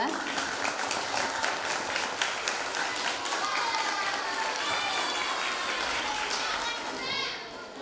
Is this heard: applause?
yes